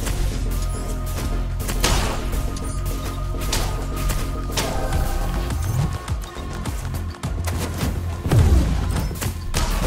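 Slow, measured tower fire in the tower-defense game Gatekeeper, dull thumps landing at a leisurely pace over a dense, busy game mix of low rumble and clatter, fairly loud throughout.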